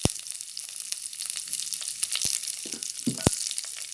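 Cinnamon stick and curry leaves sizzle steadily in hot oil for a crab curry, a continuous close frying hiss broken by a few sharp clicks and pops.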